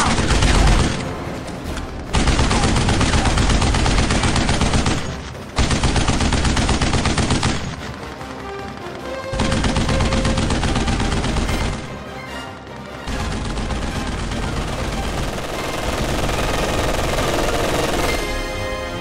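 Heavy machine gun fire in Company of Heroes 2 comes as loud, sustained bursts that run for several seconds each, separated by brief pauses and followed by continuous firing.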